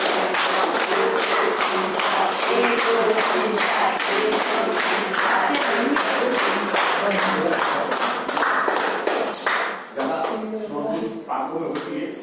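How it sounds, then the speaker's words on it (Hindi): An audience claps hands together in a steady, even rhythm of sharp, loud claps that slows and thins out near the end, with a voice speaking over it. "और ज्यादा मन कर जाए तो ताली बजाना"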